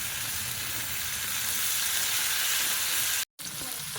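Oil sizzles steadily in a pan where mango and potato are frying for a Bengali fish curry, a continuous bright hiss that cuts out briefly near the end.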